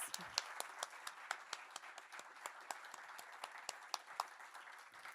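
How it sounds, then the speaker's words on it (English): Steady applause from an arts showcase audience, many hands clapping in a dense, continuous patter with sharp individual claps standing out throughout. "let's give a round of applause to the judges"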